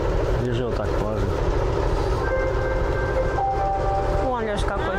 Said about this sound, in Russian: Ну, такой маленький поезд.